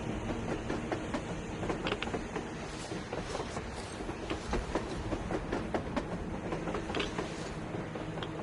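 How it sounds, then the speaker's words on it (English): A train in the video game Metro Exodus rumbles past steadily with rhythmic clicking and clattering over a low, continuous roar, moderately distant and even in level. "A train! A damn train on the surface!"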